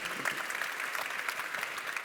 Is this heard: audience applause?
yes